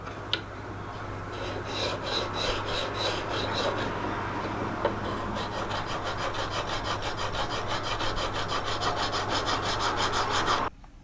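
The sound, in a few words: sanding a knife handle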